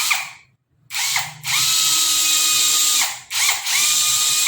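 Nanwei cordless drill driving a screw, a close, loud whirring motor that starts, stops briefly, then runs in longer bursts with small pitch dips and a short gap near the end.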